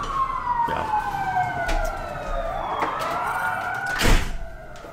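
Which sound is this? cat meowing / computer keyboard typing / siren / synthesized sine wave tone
siren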